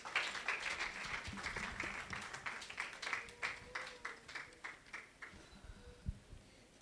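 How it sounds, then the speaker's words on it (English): An audience at a prematurity summit claps, starting as a scattered group applause that thins into a few distinct, rhythmic individual claps spaced out and fading toward the end. "Let's keep clapping."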